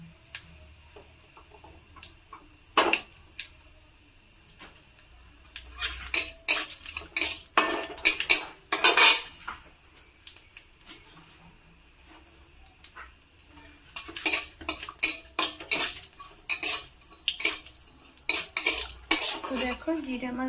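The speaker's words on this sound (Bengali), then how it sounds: "এবার জিরাটা ভালো করে ভাজা ভাজা করে নেব" Cumin seeds roasting in a kadai, with a spoon repeatedly scraping and clattering against the metal pan in irregular bursts, close and fairly loud, separated by quieter stretches.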